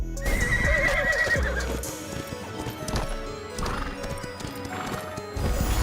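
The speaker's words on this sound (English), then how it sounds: "you race with a horse in a fantasy world of Wild Shade" A horse gallops in the fantasy mobile racing game Wild Shade, with rapid, close hoofbeats and a whinny over a busy game soundtrack, all without speech.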